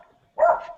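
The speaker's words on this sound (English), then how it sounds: "Hold for barking." A dog gives a single short bark, close by and fairly loud, after a moment of near silence in a home during a live online chat.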